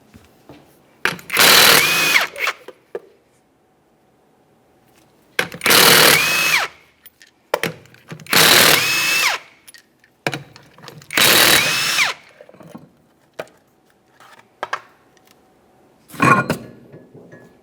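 A power tool loosens the 19mm lug nuts on the rear wheel of a 1994–1997 Honda Accord in five loud, close bursts of a few seconds each, with quiet pauses between them.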